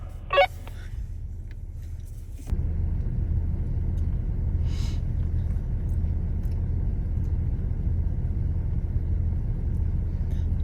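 Off-road vehicle engine idling low and rumbling as it backs up over rocks on a forest trail, a steady close drone that swells slightly after a brief clunk, with a short sharp knock early on.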